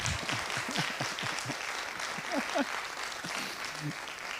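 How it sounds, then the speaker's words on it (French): Film-screening audience applauding after an introduction to the 1933 film Heroes for Sale, a fairly quiet, thin patter of clapping with voices murmuring and talking over it throughout. "il faut que vous applaudissiez le film"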